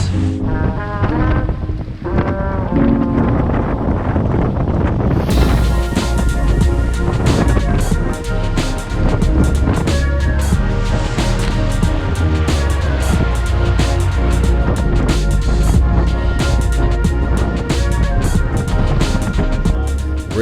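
Strong wind of about 20 knots roars over a sailboat heading upwind into steep chop, a loud continuous rush with gusty buffeting and water noise that intensifies partway through.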